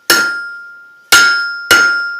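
A blacksmith's hammer strikes metal three times, each blow a loud ringing clang with a sustained metallic tone that decays until the next hit, close up and without talk.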